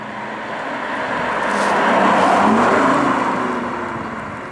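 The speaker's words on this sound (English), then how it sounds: "I'm in sport mode, the first thing you hear is all this engine noise. It sounds like a V8." Cabin engine noise from a BMW i8 driven in sport mode, a steady broad roar that swells to a peak midway and eases off slightly, with no talking.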